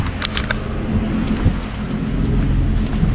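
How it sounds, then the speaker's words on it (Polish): Light drizzle falls steadily outdoors in a parking lot, a soft continuous patter with a low rumbling undertone and a few brief higher ticks near the start, no voices. "mogłoby lać, a na szczęście jest tylko taka mrzawka"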